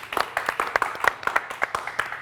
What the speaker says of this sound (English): What a set! One more round of applause for Lupe